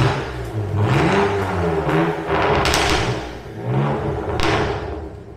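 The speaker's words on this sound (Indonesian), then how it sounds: "Ini knalpot udah diganti menggunakan FI exhaust yang suaranya luar biasa berisik." BMW M2 Competition fitted with an FI aftermarket exhaust in sport mode, revved repeatedly in short blips, each rising and falling with a loud, raspy growl close by, plus a few pops.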